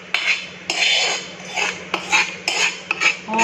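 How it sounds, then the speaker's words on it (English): Biryani portions and masalas go into a metal pot with repeated sharp clinks and scrapes of a spoon against the pot, about seven distinct strikes in quick irregular succession, close and clear. "So now putting in all the remaining portion along with the masalas."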